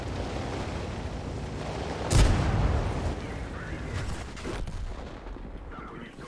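A tank cannon fires in World of Tanks, a sharp loud blast partway through over continuous battle rumble, followed by a lingering, fading roar of gunfire and explosion noise.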